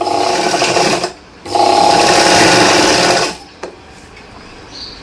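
Sewing machine stitching a katori blouse for a customer, running in two loud, steady bursts separated by a short pause, then stopping with a few faint mechanical clicks.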